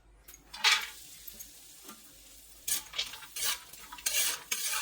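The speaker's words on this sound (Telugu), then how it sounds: "ఇంకాస్త నెయ్యి వేసుకొని డ్రై ఫ్రూట్స్ని ఫ్రై చేసుకుందామండి" Dry fruits frying in ghee in a pan, soft sizzling broken by several scraping stirs of a spoon, close and fairly quiet, with no voices.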